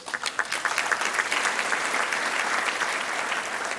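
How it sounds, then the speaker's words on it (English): At a university graduation congregation, an audience breaks into applause, opening with a few distinct claps that swell into steady, full clapping from a large hall. "I think they deserve applause."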